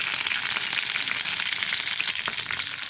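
Fenugreek seeds, dried red chillies and curry leaves splutter in hot oil for a garlic kuzhambu. A dense, continuous crackling sizzle sounds close and fairly loud the whole time.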